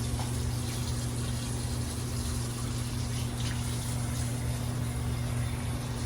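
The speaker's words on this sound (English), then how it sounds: "You gotta rinse out the sock until it's no more until it's like no more dye" Water pours steadily from a tap as a tie-dyed Nike sock is rinsed, a loud, continuous gushing splash close up with a low pump-like hum beneath, no talk.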